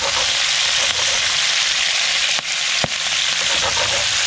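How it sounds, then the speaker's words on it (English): Whiting fillets and spring onions fry in a pan, giving a dense, even sizzle that hisses without pause, broken by a couple of sharp clicks near the end. "Just let it slowly cook there like that. And also the spring onions as well."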